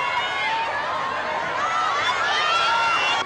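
Crowd of over 400 fans cheering as actor Lee Byung-hun appears in an airport lobby, a dense roar of high-pitched screams and shouts sustained throughout, fairly loud and close.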